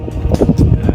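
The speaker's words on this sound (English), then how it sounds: "It's a bit windy" Wind on a coastal walk near Port Erin buffets the microphone in brief, gusty rumbling bursts, loud and close, over about one second.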